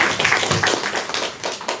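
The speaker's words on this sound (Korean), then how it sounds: "뜨거운 박수로 환영해 주십시오." A small audience claps to welcome a provincial governor at an indoor meeting: short, fairly close clapping with uneven individual claps rather than a full ovation, lasting just under two seconds.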